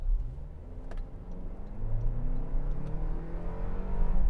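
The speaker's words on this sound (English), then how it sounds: "And the engine is kind of loud" The engine of a 2025 Toyota Land Cruiser drones as it accelerates with the pedal pressed down, a steady, moderately loud hum rising in pitch over several seconds inside the cabin.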